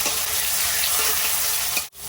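Chopped onion frying in hot oil in a wok (kadai) with bay leaf, dried chilli and cumin tempering, a steady loud close sizzle that cuts off abruptly near the end.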